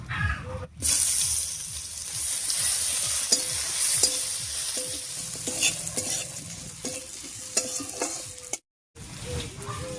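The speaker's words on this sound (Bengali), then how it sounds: "ফোড়নের উপরে পেঁয়াজটা দিয়ে হালকা লাল লাল করে ভেজে নিয়েছি।" Onions fry in hot oil over cumin, dry red chilli, bay leaf and whole garam masala, a steady close sizzle with regular scraping stirs and a brief gap near the end.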